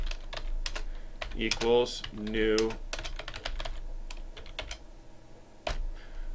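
Code being typed on a computer keyboard: rapid, close clicking keystrokes continue throughout while someone speaks briefly in the middle.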